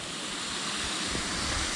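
A small waterfall at a trail water crossing pours with a steady, broadband rushing wash, loud and unbroken throughout, with no other sounds standing out.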